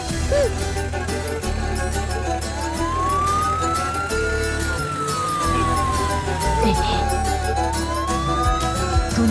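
An ambulance siren wails, slowly rising and falling over steady traffic and engine noise, fairly loud and continuous, with some background voices.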